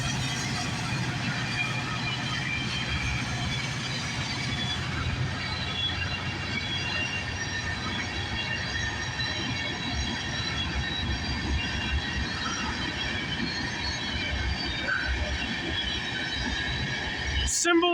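CN freight train A421, running from MacMillan Yard in Toronto to Port Robinson, Ontario, rumbles past steadily and loudly with rolling wheel noise throughout, a sharp squeal or clank coming at the very end.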